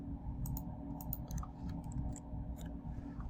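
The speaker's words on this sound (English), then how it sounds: "So I'm going to type." Fingers tap keys on a computer keyboard in a quiet room, light irregular clicks over a low steady hum.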